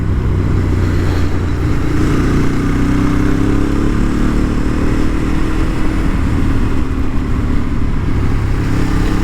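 A Ducati 848 motorcycle engine drones loud and steady while riding, a continuous close rumble mixed with rushing wind, with no talk.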